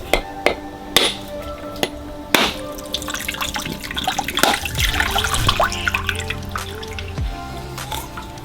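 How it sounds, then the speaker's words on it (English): Sharp repeated knocks as a coconut is struck and cracked open by hand at a Sri Lankan roadside food stall, several hard hits spaced irregularly over a busy outdoor background with dripping water. "And now he's gonna crack open this coconut here."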